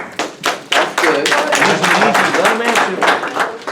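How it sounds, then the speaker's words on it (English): Audience clapping at an informational meeting on Spring Valley's dissolution, a steady patter of many hands filling the room for a few seconds, with voices faintly underneath. "I appreciate the clapping"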